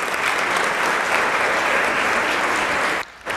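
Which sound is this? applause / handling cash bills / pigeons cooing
applause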